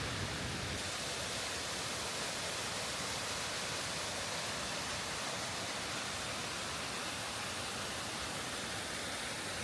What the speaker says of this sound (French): On la voit la cascade, elle est là.